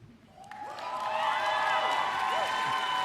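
Graduation ceremony crowd cheering and applauding, swelling quickly from a quiet start into a steady, full roar of claps and whoops that holds to the end.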